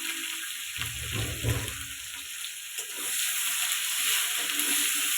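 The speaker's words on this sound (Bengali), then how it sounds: "পেঁয়াজটা একটু ভেজে নিব।" Onions frying in a pan for an egg curry with cauliflower and potatoes, giving a steady close sizzle with a louder, rougher burst early on, as if stirred, and no talking.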